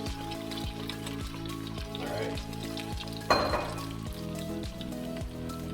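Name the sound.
sautéing Mongolian beef with its juices in a pan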